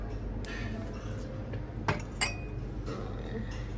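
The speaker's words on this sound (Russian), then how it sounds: "Новые стаканы появились." New glass tumblers knock together in a few light, scattered clinks up close, with faint background noise and a little talk nearby.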